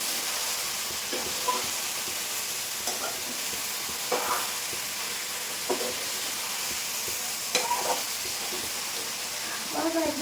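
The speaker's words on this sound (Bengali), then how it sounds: "সেটা ছোটো গ্যাসে একটু মানে নাড়িয়ে নাড়িয়ে কষিয়ে নিচ্ছি ভালো করে" Food sautés in a pan over a low gas flame, giving a steady soft sizzle throughout while a spatula scrapes and stirs at irregular intervals.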